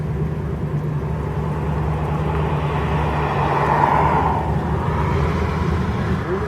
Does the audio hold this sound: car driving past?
yes